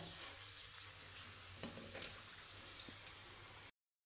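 Cauliflower-filled kachori deep frying in hot oil, a steady, moderately quiet sizzle with faint bubbling and a few light clinks, continuous and without talk until it cuts off near the end.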